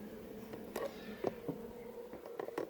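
Honey bees working an observation hive give off a low, steady hum with a few louder buzzing passes as individual bees fly close by. The sound is faint and there is no talking.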